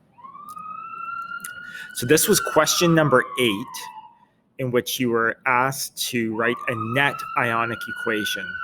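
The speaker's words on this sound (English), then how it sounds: "Excuse the sirens in the background if you can hear those." Police sirens wail on a downtown London street, a long rising-and-falling tone heard near the start and again toward the end, running steadily beneath someone speaking close by.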